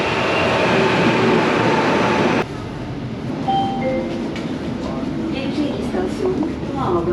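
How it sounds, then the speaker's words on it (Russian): Airport metro train in Turkey running steadily, with a loud rumbling ride that drops in level partway through, faint squeals and clicks over the rolling noise. "пока я нахожусь в метро у аэропорта, и мне нужно сделать 3 станции"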